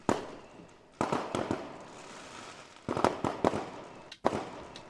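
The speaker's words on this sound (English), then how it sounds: "Firework cluster." Firework cluster sound effect: sharp crackling bursts arriving in irregular clusters of several quick pops, loud and close, with no talk.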